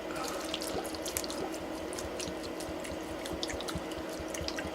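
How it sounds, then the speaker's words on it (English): Distilled water poured steadily into a bowl over silver shot, giving a continuous close splashing and trickling wash with small drips throughout. "And we're just going to keep adding water until we get up"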